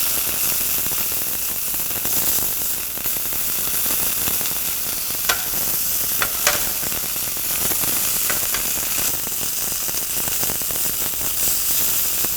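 Steady loud sizzle of beef searing in a hot pan for curry rice, with a few faint utensil clicks and scrapes over the continuous frying hiss.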